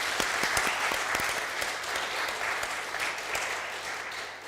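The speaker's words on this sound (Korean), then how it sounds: "미리암 찬양대에게 다시 한번 뜨거운 박수 감사하겠습니다" A church congregation applauds the choir after a hymn in a worship service, dense sustained clapping from many hands filling the room for several seconds, close and fairly loud.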